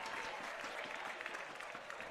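Crowd at a SLO Blues baseball game at Sinsheimer Stadium cheering and applauding after a miracle catch, a steady broadband roar of clapping and shouting across the whole stretch, fairly distant and even in level.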